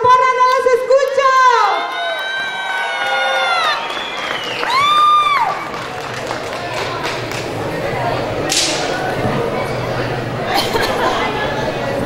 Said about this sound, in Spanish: ¡Fuerte el aplauso de su porra, no los escucho!